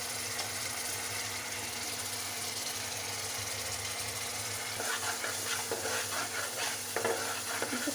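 A spice mixture of turmeric, green chilli, chilli powder, salt and cumin-coriander powder sizzles softly in a pan while a spoon stirs it, with quiet frying hiss under scraping strokes that grow more frequent toward the end.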